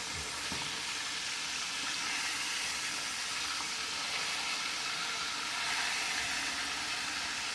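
Chicken legs frying in hot grease for homemade KFC-style fried chicken, giving a steady, close, even sizzle and crackle that continues without a break and without talk.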